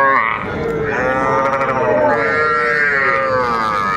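Small bulls and heifer calves at the Aftabganj cattle market low and grunt in a steady, close chorus of drawn-out bellows, backed by the busy murmur of the open-air livestock haat.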